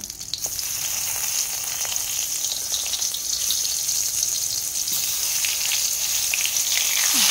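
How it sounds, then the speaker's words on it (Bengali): Eggplant slices frying in hot oil in a home kitchen, giving a steady, loud sizzle that runs throughout with faint crackles and no talking. "এবার এই তেলে বেগুনটাকে ভেজে নেব"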